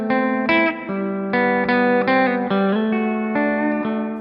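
Electric guitar playing a melodic lead line with effects, sustained notes over a steady chordal backdrop, clean and close.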